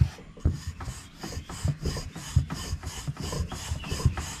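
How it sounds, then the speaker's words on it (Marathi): Fenugreek paratha dough rolled out with a rolling pin, a steady series of close, rhythmic rubbing strokes repeating about three times per second, with soft thumps as the pin rolls back and forth. "आणि आता आपण अशी लाटूया."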